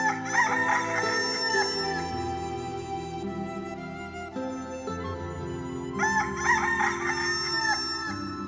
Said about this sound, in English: they brought a fine fat cockerel to crow